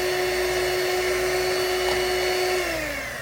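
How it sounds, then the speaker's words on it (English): A trusty electric mixer whirs steadily and loudly, blending yogurt into milk in a steady high-pitched drone that winds down at the end, heard alone up close. "So now taking my trusty mixer, I'm going to mix"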